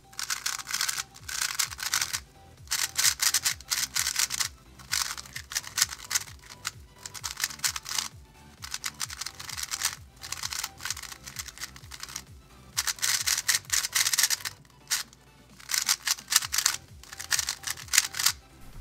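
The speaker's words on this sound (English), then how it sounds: "So this is what the cube sounds like before adding in the lube." A Weilong GTS v2 speedcube is turned before lubing, giving rapid, scratchy plastic clacking and rattling in continuous bursts with brief pauses. It is close and moderately quiet, with no talking.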